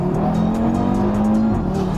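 A tuned Audi RS3 Stage One with a 475 bhp engine accelerates hard, its loud, close five-cylinder drone rising steadily in pitch before a brief dip, with no speech.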